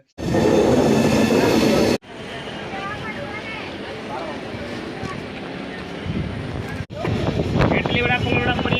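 The Chola Express passenger train travels from Chennai toward Tiruchirappalli, with a steady rumbling roar of the moving carriages heard from onboard, loud at first and then settling into a constant hum, while people talk.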